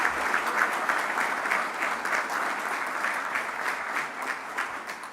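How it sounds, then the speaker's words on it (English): A room full of people at a fire and EMT class graduation applauds steadily, a dense wash of clapping that holds at an even level throughout. "Let's give them a quick round of applause."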